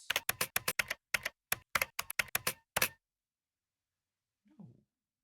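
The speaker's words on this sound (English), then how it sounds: "I attempt to get into this thing by typing out this" Quick bursts of keyboard typing, about a dozen crisp keystrokes in a short run with brief pauses, then silence apart from a faint soft sound near the end; close and alone, with no talking.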